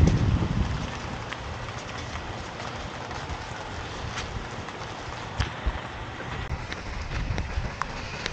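Heavy rain falls steadily in Medina before dawn, making a dense, constant hiss that stays loud and unbroken throughout, with no one speaking.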